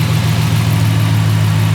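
A 2016 Ram 1500 pickup engine idles steadily and loudly up close, a constant low rumble with a faint rev near the start and no talking.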